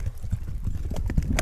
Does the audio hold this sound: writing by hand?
no